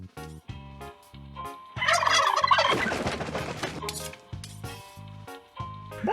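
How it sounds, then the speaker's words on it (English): A turkey-gobbling sound effect of the kind heard in South Park: rapid bursts of gobbling repeat in a choppy, looping pattern, with a louder, messier clattering stretch in the middle. "Use that turkey noise as our entire outro."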